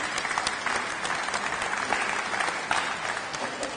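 A room full of people at a London Transport Museum Windrush 75 celebration claps steadily and loudly, a dense continuous wash of applause with no pauses.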